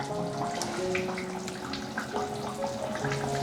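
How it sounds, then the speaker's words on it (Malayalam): Raw coconut oil is poured into a simmering fish curry, a close, steady liquid trickle with a faint bubbling hiss beneath. "അപ്പോൾ നമ്മൾ കുറച്ച് പച്ച വെളിച്ചെണ്ണ ഇതിലോട്ട് ഒഴിക്കുവാണ്"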